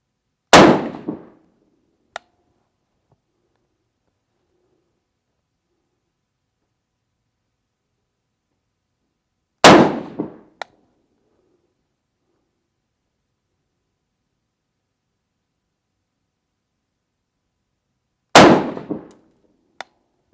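Three single shots from a PSA Sabre AR-10 rifle fired at a target, each a loud, sharp crack with a short decaying tail and a faint tick just after. The shots are spaced about nine seconds apart, with silence between them.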